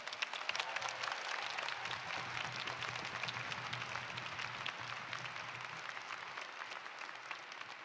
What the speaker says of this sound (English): Now, please join me in a round of applause to congratulate them all.